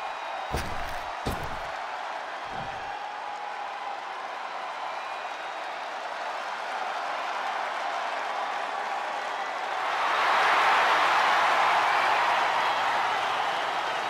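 A large arena crowd at a WWE Money In The Bank 2024 ladder match roars continuously, with a few loud slams early on and the cheering swelling louder in the final seconds.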